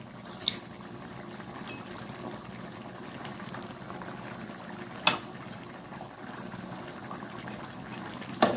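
Chicken gravy boiling in a pot makes a steady low bubbling simmer, close and fairly quiet, with a few brief metallic clinks scattered through it and no talking.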